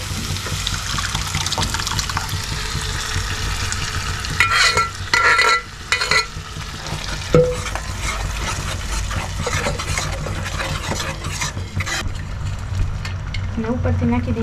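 Masoor dal being tipped into a sizzling pan and stirred, a steady frying hiss with scraping spoon strokes and brief splashy bursts, close and fairly loud throughout.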